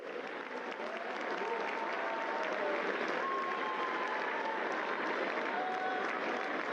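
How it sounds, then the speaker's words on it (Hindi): A large audience at a national youth event in Bharat Mandapam hall applauds continuously, a dense, even wash of clapping heard from a distance with no pauses, with faint voices and a few whistles among it. "आपकी तालियां रुकनी नहीं चाहिए।"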